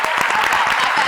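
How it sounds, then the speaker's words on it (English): A convention panel audience at Emerald City Comic Con claps hands together, a dense, loud and steady burst of applause from a large crowd. "So everybody clap your hands just like this."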